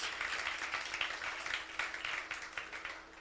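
Church congregation applauding during a sermon, a steady wash of many hands clapping at moderate level with a rhythmic pulse, sustained throughout without speech.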